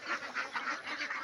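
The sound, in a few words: ducks quacking on a small duck farm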